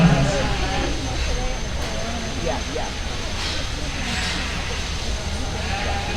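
Sheep bleat at a breeding sheep show in Arizona, their calls rising now and then over a steady murmur of crowd talk and arena noise, with a faint hum of aircraft in the background.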